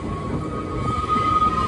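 A Manx Electric Railway tram rumbles along the tracks, a steady low rolling roar with a faint sustained metallic whine above it, close and continuous for the whole short stretch.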